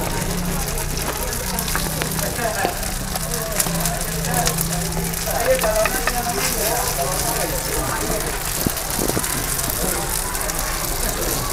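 Aci tapioca snacks fry dry in a pan, giving a steady, continuous crackling sizzle with scattered pops throughout, while voices murmur faintly in the background.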